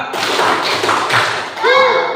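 A classroom group claps a rhythmic tepuk semangat chant in dense, steady bursts of palm slaps, close and loud, with a voice calling out near the end.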